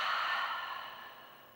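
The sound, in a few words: deep exhale through the mouth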